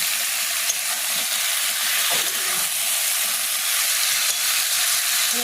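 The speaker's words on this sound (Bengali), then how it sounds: "এঁচোড়ের সাথে মশলাটাকে একটু ভালো করে কষাতে হবে।" Jackfruit frying with spices in a pan for a Bengali kalia, a loud, steady close sizzle with faint stirring movements underneath and no voices.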